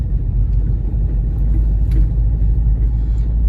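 Car driving along a street, heard from inside as a steady, loud, low road rumble with no break and no talk.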